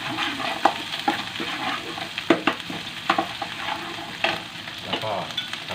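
Curry paste stir-fried in a pan for a Thai fish curry, a continuous loud sizzle broken by repeated scraping strokes of a spatula, with no voices.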